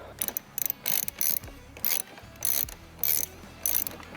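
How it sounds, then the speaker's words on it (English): A 10mm ratchet clicks in quick bursts of rapid pawl ticks, about eight short runs with brief pauses between, close up while loosening a negative battery terminal on a Cummins truck. "grab your 10mm. Disconnect both of the negative battery terminals."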